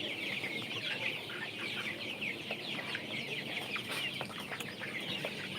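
Colour-bred meat chickens on a farm keep up a continuous chorus of soft clucks and chatter from many birds, steady and moderately quiet, with no talking.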